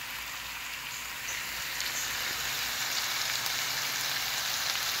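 Goat meat for Jamaican curry goat sizzles and crackles steadily in a pot, a dense frying hiss that grows slightly louder partway through as it is stirred and turned.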